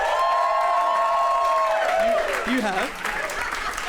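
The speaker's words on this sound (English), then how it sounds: "give us a round of applause" Live comedy podcast audience applauding and cheering, a dense roar of clapping with a long whistle-like whoop and rising cheers, while a voice speaks briefly over it.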